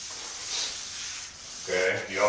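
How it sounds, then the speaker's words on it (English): An aerosol lubricant sprayed onto a steel garage door vertical track, a short broad hiss near the mic, first a low steady spray, then a louder burst of spraying alongside a brief tonal squeak or clatter of handling. "you want to take and lube your vertical track"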